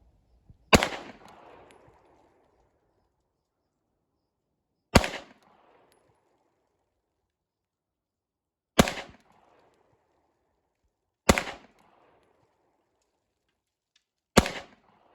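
Five sharp shots from a Sig P228 pistol at a shooting range, spaced a few seconds apart, each a loud close crack with a short decaying echo, separated by near silence.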